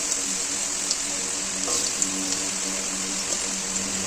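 Chopped potatoes fry in hot mustard oil over a low gas flame, a steady bright sizzle with occasional small pops and crackles, moderately loud and without speech.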